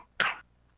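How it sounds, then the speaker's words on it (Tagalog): A child's single short cough, sharp and close, in a cough syrup advertisement, standing alone against near silence. "Ubo ng anak, nakababahala,"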